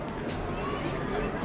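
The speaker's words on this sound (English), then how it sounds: "Lots of people there, lots of excitement." Crowd of people chattering and murmuring at a treetop spiral slide tube, a steady busy hubbub of indistinct voices close by with no clear words standing out.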